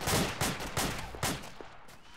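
In a tactical military shooter game, a handful of loud gunshots ring out in an irregular series, each crack trailing into a short echo before the firing tapers off.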